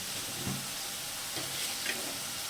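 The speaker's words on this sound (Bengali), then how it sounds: "এবার আমি নেড়ে নেবো। এটা আমি ততক্ষণ কষাবো যতক্ষণ এর উপর থেকে তেল না ছাড়বে।" Banana flower with prawns stir-fried in oil: a soft, even sizzle with a few brief stirring scrapes, faint and close, with no voices.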